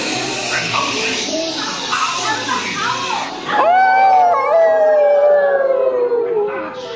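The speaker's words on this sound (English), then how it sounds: "As she searched, she could hear the wind whistling" A wind whistling and howling effect plays on a New Fantasyland ride at Walt Disney World's Magic Kingdom, with a loud, long, downward-gliding howl rising over a voice narrating in a busy indoor space.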